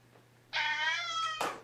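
A cat meows in one long, loud, close, tonal call lasting about a second, followed by a brief second cry, alone with no talk over it.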